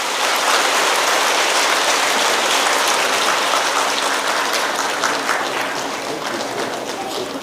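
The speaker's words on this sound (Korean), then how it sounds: "뜨거운 박수로" A Korean Sunday worship congregation breaks into loud, warm applause after a prayer blessing two infants, with dense, hissing clapping sustained throughout and tapering slightly at the close.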